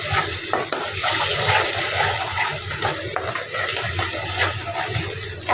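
Food frying in a pan with a sour ingredient just added, a busy close sizzle with stirring scrapes and light clatter throughout, with no talking.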